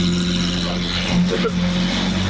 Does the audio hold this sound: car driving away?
yes